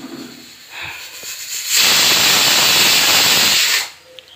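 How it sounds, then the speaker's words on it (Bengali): A pressure cooker of dal on a gas stove lets out a loud, steady hiss of escaping steam for about two seconds. It rises suddenly from quiet kitchen background and stops just as abruptly. "প্রেসারে ডালটা বসিয়েছি"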